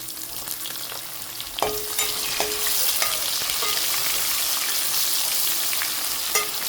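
Chopped onions dropped into hot oil for keema, a sharp burst of frying at about 1.6 seconds that settles into a steady close sizzle with occasional stirring clinks.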